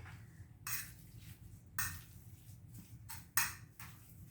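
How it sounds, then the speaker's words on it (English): A fork mixing in a bowl while making hamburger steak with gravy, giving three quick scraping clatters spaced about a second apart, close and fairly quiet, with no talking. "that's enough mixing with the fork"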